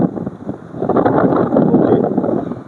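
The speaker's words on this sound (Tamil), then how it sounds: "காற்று ரொம்ப அதிகமாக அடிக்குது." Strong wind buffets an outdoor microphone in the Ooty to Kotagiri hills during a drone outing, a loud, continuous rumbling roar that swells and eases without pause.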